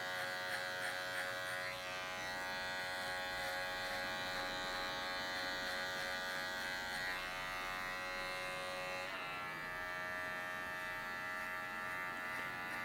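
Electric hair clipper with the number 1 guard cutting hair during a men's fade haircut at a barber, giving a steady, close, continuous buzzing hum with a slight pitch drop partway through.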